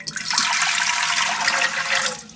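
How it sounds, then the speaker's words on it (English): Three quarts of water pour steadily into a canning pot at a home stove, a loud continuous rushing splash filling the whole moment without speech. "I've got 3 quarts of water that is going to go into my canning pot."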